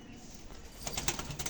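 Pigeons in a loft give faint, distant coos, with a few soft wing flaps and rustles near the end, no voices.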